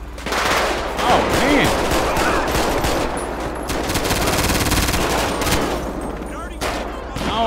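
Rapid automatic gunfire from the player's gun in GTA 5 in dense, continuous bursts with short pauses, loud and close throughout, with a voice heard briefly.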